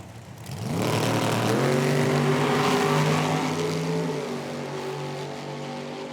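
A nitro dragster from an IHRA Outlaw Nitro Series event at Milan roars loud and close down the drag strip, its engine rising in stepped, climbing harmonics over about six seconds, then fading slightly as it pulls away.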